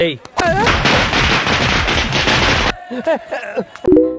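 Gunfire from an Iron Man film scene bursts out in a dense, loud rapid volley lasting a couple of seconds, followed by shouting voices and scattered sharp hits.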